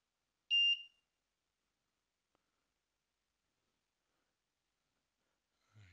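A homemade Arduino water leak detector's alarm gives one short, loud electronic beep, followed by a long silence and a faint noise at the very end.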